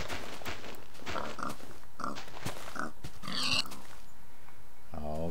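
Pigs in Minecraft give a few short, nasal oinks and grunts, spaced out over a steady background of game sounds, with some high chimes near the end.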